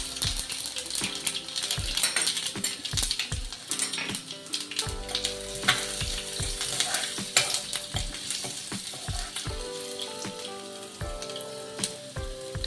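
Chopped ginger frying in hot tempering oil with mustard seeds for citron pulihora, with steady sizzle and crackle under repeated scraping and clanking stirs of a utensil against the pan, close and continuous.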